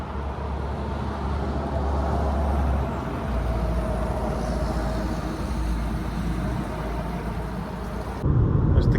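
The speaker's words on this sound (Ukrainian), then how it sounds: "А зараз зробимо невеличкий тест-драйв." A Renault Koleos 2.0 diesel automatic from Switzerland on a test drive gives a steady, even engine and road rumble from inside the cabin, with no talk, and the tone shifts slightly near the end.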